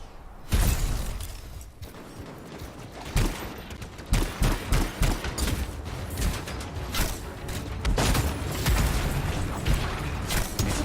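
Bursts of enemy gunfire in the video game Anthem crackle in irregular volleys, with sharp impacts and clattering mechanical noise mixed in and no talking.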